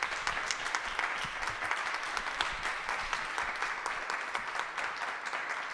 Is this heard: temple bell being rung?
no